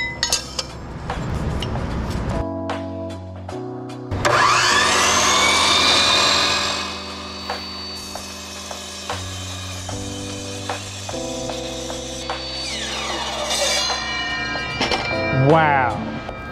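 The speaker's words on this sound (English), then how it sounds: "That straight up cut a freaking 1/4 inch cold rolled steel pipe." A power tool cuts through 1/4 inch cold rolled steel pipe in a metal workshop, with a steady high grinding tone rising and shifting over several seconds alongside clinks and humming motor pitches, with people talking now and then.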